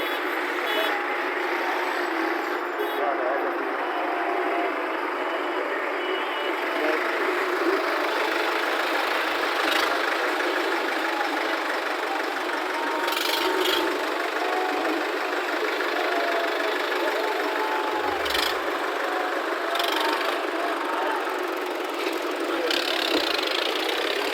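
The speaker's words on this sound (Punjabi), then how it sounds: "ਟਰੈਕਟਰ ਰੈਲੀ ਅੱਜ ਕੱਢੀ ਜਾ ਰਹੀ ਆ" Tractors idle together at a farmers' tractor rally, a steady loud engine drone filling the whole stretch with brief bursts of higher-pitched noise on top.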